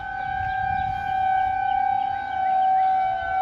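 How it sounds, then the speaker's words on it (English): Tornado warning sirens wailing across Missouri, sustained steady tones with slow rising and falling swells, heard from a distance outdoors with no talking. "The tornado sirens are going off."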